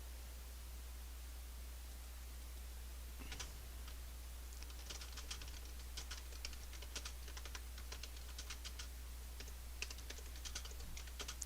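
Keystrokes on a computer keyboard while entering text in Office 365, starting after about three seconds as a light, irregular run of clicks and taps, faint and close, over a steady background hiss, with no talking.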